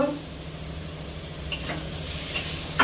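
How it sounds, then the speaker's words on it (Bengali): Raw shrimp with salt and ginger paste sauté in a pan, a soft steady sizzle with a few sharp stirring scrapes toward the end, close and moderately quiet. "দিয়ে আবারও কিছুক্ষণ কষে নেব"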